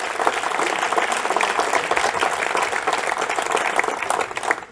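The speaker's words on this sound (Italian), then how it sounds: "A questi e a tutti gli altri premi Navicella un grande applauso e un grande grazie" An audience applauding award winners at the Premio Navicella Sardegna ceremony, dense sustained clapping from a crowd, steady and loud, tapering slightly at the end.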